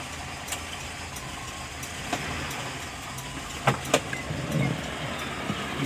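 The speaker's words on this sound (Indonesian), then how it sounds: "mari kita lihat mesinnya ya. Mesin halus sekali." A 1997 Suzuki Esteem (Espass) in top condition, silver metallic, idles with a steady, smooth hum, with a few sharp clicks and knocks over the engine sound and no talking.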